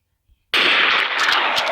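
Gunfire from a weapon in the zombie mode of the video game Special Forces Group 2: a sharp onset followed by a dense, continuous burst of rapid shots, loud and close, with no talking over it.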